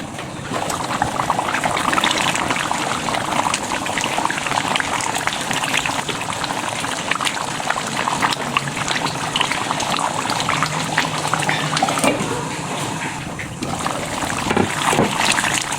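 Water poured into a pot of fried-down beef curry sets off a loud, steady rushing hiss and bubbling that carries on for the whole stretch without a break.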